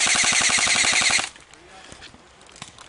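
Airsoft sniper rifle fire outdoors during a game: a rapid burst of sharp snapping shots for about a second, then quiet with faint background noise.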